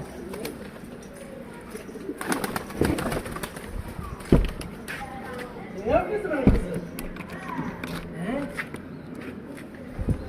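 Pigeons coo in a large loft housing about seventy birds, with wing flutters and rustling close by, while someone talks over the birds and handles things around them.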